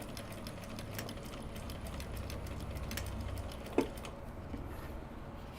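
A sewing machine stitches fabric for a Japanese-style bag with a steady, close mechanical whir and a rapid ticking rhythm. There is one sharp knock near the end, then the run eases off. No one speaks.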